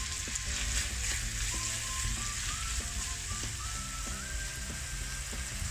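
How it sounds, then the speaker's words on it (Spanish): Chopped onion with a pinch of salt fries in a pan, producing a loud, dense, continuous sizzle heard close up throughout, with faint tonal beeps in the background and no talking. "Añadimos la cebolla, como siempre le ponemos un poquito de sal. Y la dejamos un par de minutitos o tres."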